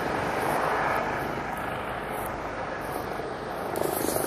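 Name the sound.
ambulance helicopter flying overhead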